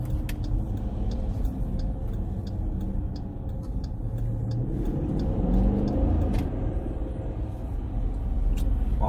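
A Dodge Durango R/T engine rumbles steadily from inside the cabin while driving, a deep continuous drone under road noise that swells slightly toward the middle and end.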